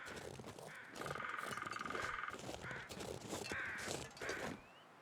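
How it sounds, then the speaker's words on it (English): Carrion crows in the video game The Long Dark caw repeatedly in harsh, drawn-out calls, several overlapping, set against a busy background of rustling and ambient noise. "those are carrion crows"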